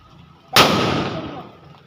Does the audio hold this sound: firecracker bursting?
yes